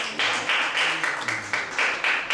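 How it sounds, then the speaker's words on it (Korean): Audience applause at a fundraising concert for a Peace Girl Statue in Gwanak, a dense steady clapping from a crowd that fills the short stretch at moderate loudness, with no speech over it. "다같이 박수 부탁드리겠습니다"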